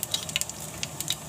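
Mustard seeds dropped into hot oil in a heated wok, a soft sizzle with rapid small pops and crackles scattered through a brief moment, close and fairly quiet, no voices.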